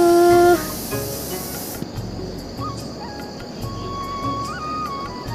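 A pressure cooker on a home kitchen stove lets off steam: a brief shrill tonal whistle opens, then a steady, loud hissing rush of escaping steam carries on throughout, close by.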